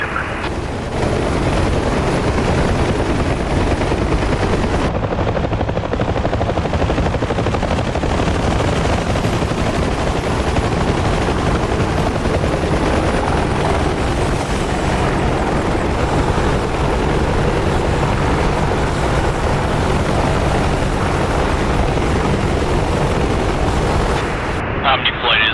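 Omniflight helicopter lifts off and flies, a loud, continuous rotor thump and turbine roar with dense chopping pulses that holds steady throughout, with radio chatter mixed in.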